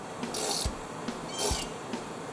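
A thread tap being backed out of a broken bolt on a car or bike part, giving repeated short scraping rasps of metal on metal at roughly regular intervals, close and moderately quiet.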